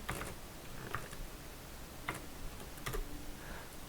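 Code typed on a computer keyboard in a quiet room: soft, irregular key clicks in short bursts with pauses, fairly faint, no voice.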